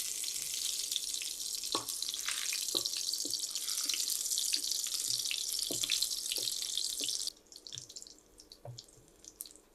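Whole garam masala spices fry in oil in a frying pan, a loud, dense sizzle sprinkled with small ticks and pops that drops away sharply near the end, leaving faint crackles.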